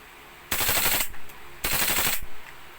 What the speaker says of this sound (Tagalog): Full auto pala yung gitna.